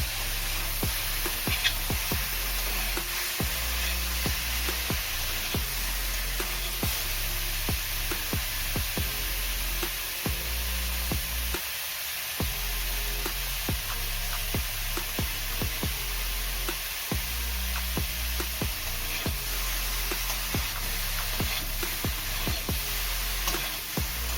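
Cauliflower florets frying in oil in a pan for several minutes, a steady broadband sizzle running throughout with occasional faint clicks and clatters of handling.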